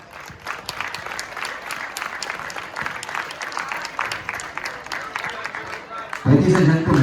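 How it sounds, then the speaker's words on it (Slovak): An audience gives steady, dense applause for former footballers at a football tournament event. The clapping carries on throughout, and a loud voice comes in over it near the end. "Privítajme ich veľkým potleskom."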